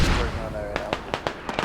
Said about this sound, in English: As expected, mortars land. I can hear them. Mortars landing nearby on this.